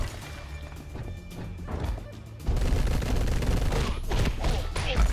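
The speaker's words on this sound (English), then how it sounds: "Shotgun, shotgun, shotgun." Shotgun blasts in the top-down action game Mr. Shifty, a quieter stretch giving way to a loud burst of heavy booming shots and crashing impacts up close.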